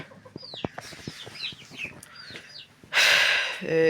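Hens cluck and chirp softly at close range, then a sudden loud burst of flapping and squawking ends the clip.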